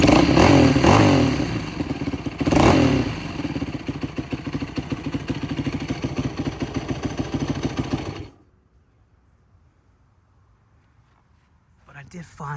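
A Yamaha YFZ450 ATV engine with a leaking seal revs hard and rough for about eight seconds, loud and close, then cuts out into near silence before a faint rattle.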